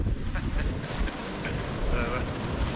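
Strong wind on a snowy Scottish mountain summit in winter buffets the microphone in a constant roaring rumble, close and loud, with gusts rising and falling.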